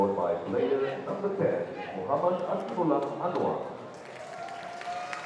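A crowd at a field hockey match between Malaysia and Japan at the Sultan of Johor Cup cheers and applauds a goal, a steady broad roar under a commentator's continuous voice that eases toward the end.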